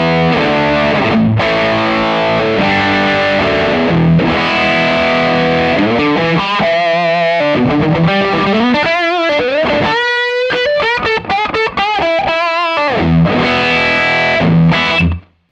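Electric guitar played through a Tube Screamer overdrive pedal into a cranked Fender Deluxe Reverb amp, giving loud, sustained overdriven chords and single-note riffs that ring out continuously before cutting off at the end.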